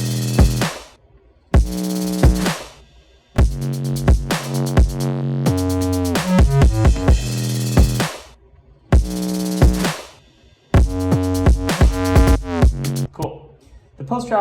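A song's rhythm section plays alone in stop-start bursts: punchy drums with steady low bass notes and harmonic layers, clear and loud with short silent gaps between phrases.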